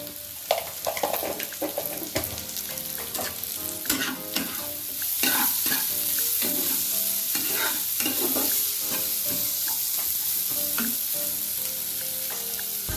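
Vegetables frying in a pan with a pinch of cumin powder added, during preparation of a bread upma snack, with continuous close sizzling and irregular clattering stirs of a spoon against the pan.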